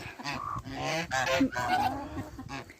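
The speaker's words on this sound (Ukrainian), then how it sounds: "Виглядають наші гуси кури." Farmyard geese honk loudly and close in a series of harsh, overlapping calls, a busy cluster of squawking honks filling the short stretch without pause.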